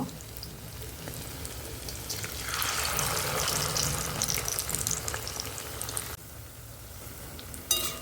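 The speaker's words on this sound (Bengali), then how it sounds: "আমি এইভাবেই একে একে সমস্ত বড়াগুলোকে ভেজে নেব।" Bitter gourd leaf fritters frying in hot oil give a steady, crackling sizzle that swells louder midway and then drops back, with a brief clatter near the end and no talking.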